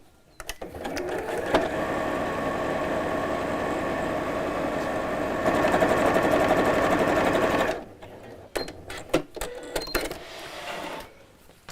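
Sewing machine running steadily while top stitching a small drawstring bag, a loud continuous whir for about eight seconds, then stopping into a few short bursts and clicks as the fabric is adjusted.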